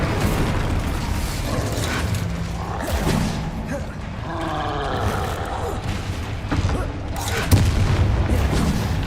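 Spell blasts and explosions from the Hogwarts Legacy video game, dense rumbling booms and bursts layered continuously over a busy combat background, with spoken incantations mixed in.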